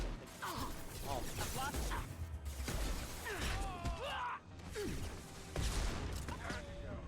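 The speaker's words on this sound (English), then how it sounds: "Why would you shoot me with a missile?" A missile striking the player in the video game Mass Effect 2: rapid bursts of gunfire and mechanical clanks, then a sudden loud impact crash, with bright sweeping electronic tones and continued battle noise afterward.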